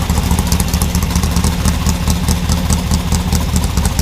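The air-cooled VW engine of a 1975 trike idles at about 1,000 RPM, running steady and loud up close with a rapid, even chugging pulse and a light clatter.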